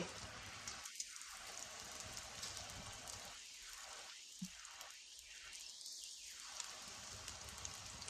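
Nutella wraps fry in hot oil with a steady, soft hiss and faint crackle, broken by a few brief gaps as things shift in the pan.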